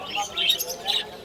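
At a bird market at Mirpur 1 in Dhaka, caged pet birds give short, faint chirps and tweets in a few quick bursts, high and scattered against quiet background noise.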